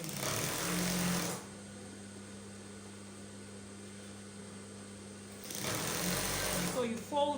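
A sewing machine stitches a folded seam on a shift dress, running in two steady loud bursts at the start and end with a quieter stretch of work noise between.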